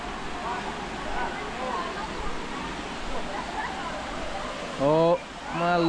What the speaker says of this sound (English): This is probably one of the nicest waterfalls in all of the Philippines.